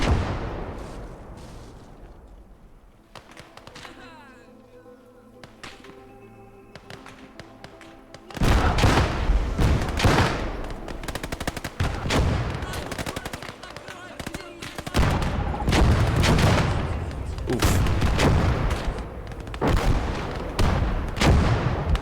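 Artillery bombardment in a war video game thunders with heavy, repeated booms and crackling gunfire, sparse at first and then dense and loud for most of the stretch, near and overlapping with no clear pause.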